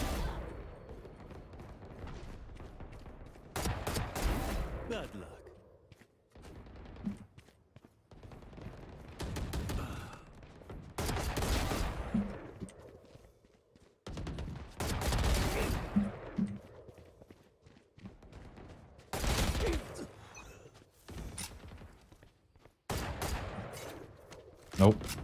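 Heavy gunfire from a VR shooter game comes in repeated loud, dense bursts and volleys spread across the span, separated by short gaps. A player's voice is heard between the bursts.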